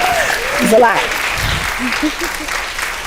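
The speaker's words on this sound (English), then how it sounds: "I want to give them another round of applause." A festival audience at a literary event claps in steady applause, loud and close, with a speaker's voice briefly over the clapping.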